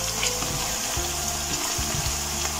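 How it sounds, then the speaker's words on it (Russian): Moose meat with onion sizzles loudly in hot oil for plov, a dense, continuous crackling fry with a low steady hum underneath. "Журчит мяско."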